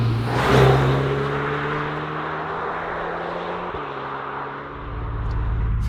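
A Volkswagen Mk8 Golf R accelerates on the road. Its engine note climbs steadily, drops briefly at a gear change, then builds again, heard from inside the car with no one talking.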